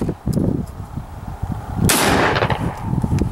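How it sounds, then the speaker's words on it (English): A gun fires outdoors in one sharp, loud blast partway through, with a rushing, noisy tail over a rumbling background. "We shooting guns out here, boy."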